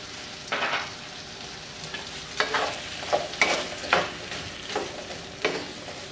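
Pork and vegetables frying in a pan with salt and pepper, stirred in several separate scraping strokes over a soft continuous sizzle, close and clear.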